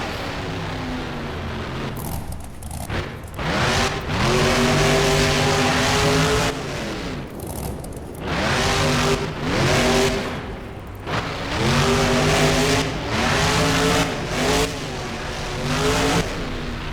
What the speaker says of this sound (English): The truck still seems to be running perfectly fine though as he jumps up one of the racing ramps